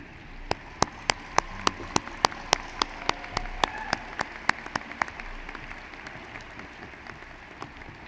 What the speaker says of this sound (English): please show your thanks and applaud these dedicated individuals who have guided you along your journey